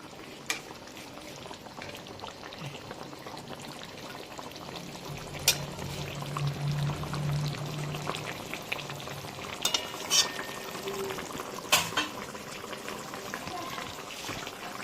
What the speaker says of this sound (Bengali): তো বন্ধুরা দেখুন এখানে ঝোলটা কিন্তু ফুটছে